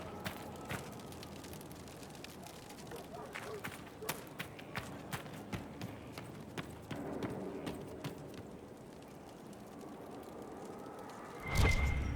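Horse hooves clip-clop steadily in Dragon Age Inquisition, a quiet regular footfall over game ambience, with a louder thump near the end.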